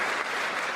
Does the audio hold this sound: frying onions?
no